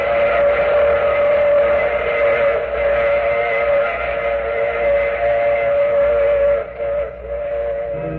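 Steam train whistle in an old radio drama, a loud, sustained steady wail held for several seconds over a continuous rumbling train background, dipping briefly near the end.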